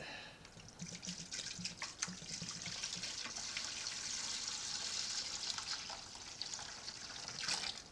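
Apple wine liquid running steadily into a second fermenter, a faint continuous trickle and splash with no voices.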